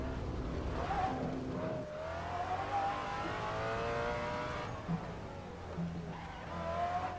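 A stock car in Assetto Corsa revs hard while it drifts, with the engine note rising and falling and tires squealing in long, wavering whines as the handbrake kicks the rear out.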